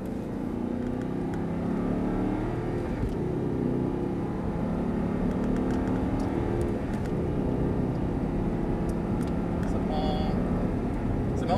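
An Audi R8 accelerating on a race track, with an engine drone that rises in pitch across the run, heard from inside the car, while someone talks over it.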